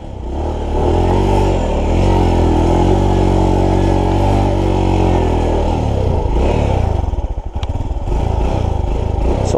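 Motorcycle engine running steadily and loud throughout, idling with a constant rumble then shifting as the throttle changes near the end, on a flooded, sandy road.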